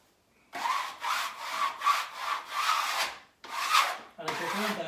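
Hand smoothing fresh wallpaper onto a hallway wall: rhythmic, close papery swishes and rubs, about seven strokes in a steady back-and-forth pattern with a brief pause near the end.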